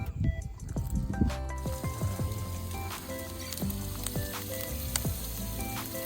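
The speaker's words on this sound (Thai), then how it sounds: "ที่แคมป์มีหมูกระทะด้วยนะครับ" Pork sizzles on a Thai moo kata grill at a campsite, a close, continuous frying crackle with scattered pops and wet drips throughout.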